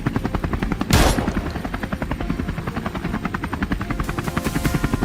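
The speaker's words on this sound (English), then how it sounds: "The pilot swiftly lowers the altitude, bringing the helicopter in close" A helicopter flies low during a wild boar hunt, its loud, steady rotor chop close and continuous throughout, with a brief louder gusty burst near the start.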